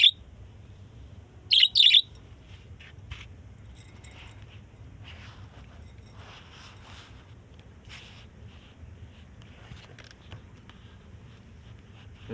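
Caged pet birds, six kept together, give a few short, sharp chirps near the start, then fainter scattered tweets over a steady low background hum, with no talk.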